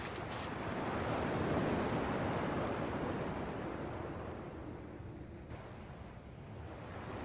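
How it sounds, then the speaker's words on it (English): Ocean waves wash steadily onto a shore in a Kingdom Hearts video game, a continuous broadband surf roar that swells in the first seconds and then eases slightly, with no voices. "At least the waves sound the same."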